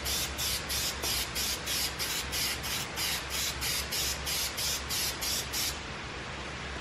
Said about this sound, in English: do the same thing that you've done with the spray paint with the clear coat